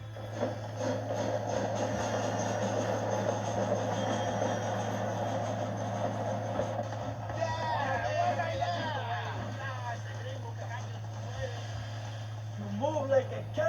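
Train rolling along in a video game set in Mexico during a train robbery, a steady low mechanical hum and rumble throughout, with game voices talking over it in the later part.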